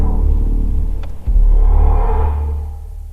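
A 2023 BMW XM plays its Hans Zimmer-designed sound: a deep, steady low drone with a brief dip midway, then a swelling tonal layer that slowly fades, loud and close with no talking.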